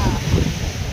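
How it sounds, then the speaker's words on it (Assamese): Sea water and surf at Chennai beach in the evening, a brief, loud low rumble of waves mixed with wind buffeting the microphone. "পানীৰ শব্দ"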